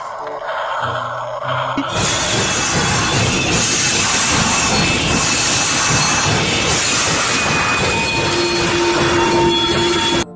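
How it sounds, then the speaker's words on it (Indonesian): A Thomas the Tank Engine toy steam train runs steadily, with a constant mechanical whir and rumble and thin high tones riding on top, loud and close throughout. "Wah, kereta api Thomas"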